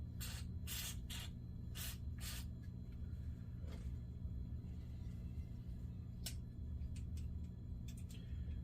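A few short hissing spray bursts of cleaner soak small fishing reel parts during spinning reel maintenance, heard near and alone over a steady low background hum, with a couple of later quick sprays.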